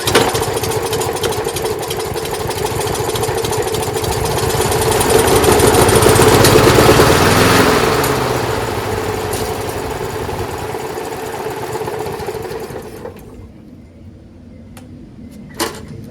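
A Snapper Hi-Vac rear self-propelled lawnmower with a 5 HP Briggs engine runs steadily and loudly close by, swelling midway, then easing off and cutting out near the end.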